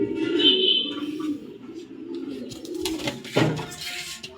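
A young female racing pigeon cooing loudly up close, followed by a burst of wing flaps and rustling as it is let go, with faint background noise.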